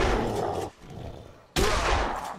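Two bursts of rapid gunfire in Dead Island Riptide, each a dense loud volley, separated by a short quieter gap.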